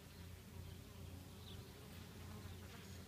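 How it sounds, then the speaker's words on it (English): Honeybees buzz around a hive set in a clover pasture, a faint, steady droning hum with an occasional bee passing closer. "There's one bee right there."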